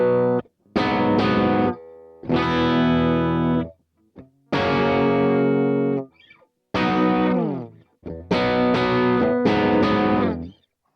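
Electric guitar played with heavy gain and no effects, several distorted chords and strums ringing in bursts separated by short pauses, loud and close with no voices.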